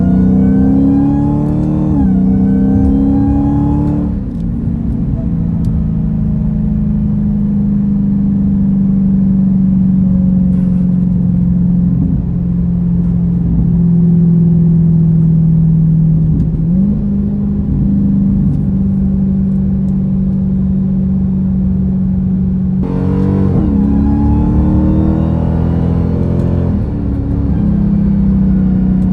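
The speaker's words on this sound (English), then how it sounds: "we're going to get a couple of the supercharger wines because I'm in the Hellcat Red Eye." A Dodge Challenger Hellcat Redeye's supercharged V8 revs up repeatedly, its loud engine roar rising and falling with a high supercharger whine layered over a constant deep rumble, with no talking.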